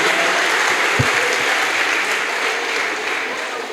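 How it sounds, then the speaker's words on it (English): A crowd at a youth human rights advocacy event gives a strong, even round of clapping for the Gambia after its win in a manifesto contest, with one low thump early on. "I want all of you to give a round of applause to the Gambia for winning."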